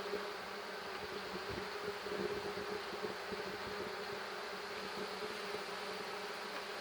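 Honey bees buzzing steadily during a hive inspection of a swarm making comb, a dense, continuous drone close by with no talking.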